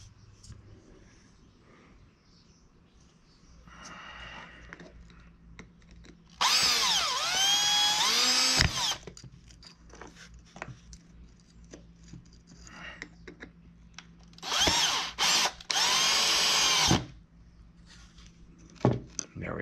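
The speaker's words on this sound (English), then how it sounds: "Gonna have to re-drill that hole." A power drill whirs in several bursts, revving up and down as it bores a hole in wood, with quieter handling noises and a bit of talk in between.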